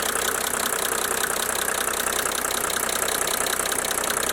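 A diesel engine idles steadily after a fuel purge, a continuous, even mechanical drone with a faint knocking texture and no voices over it.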